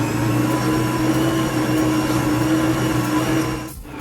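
A stand mixer kneads whole wheat bread dough with a steady, loud motor drone and low mechanical hum. The hum runs unbroken for about four seconds, then dips briefly near the end.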